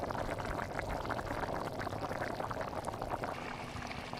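A pot of banana and taro curry bubbles on the stove in a village kitchen, a dense, steady simmering hiss and gurgle that continues evenly throughout.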